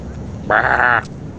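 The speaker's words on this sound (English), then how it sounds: "There's cats everywhere, and for some reason they sound like sheep." A video-game cat gives one loud, sheep-like bleat lasting about half a second, heard alone against a low background hum.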